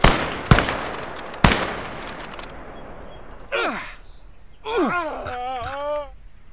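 Gunfire crackles in the Call to Arms Gates of Hell single-player game, with a few sharp loud shots at the start that ring out and decay, followed by groaning, wailing voices.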